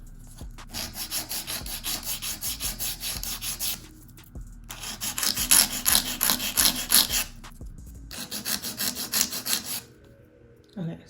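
A nail file rasps rhythmically back and forth along the sides of an acrylic nail, close and steady, in three sustained bursts separated by brief pauses.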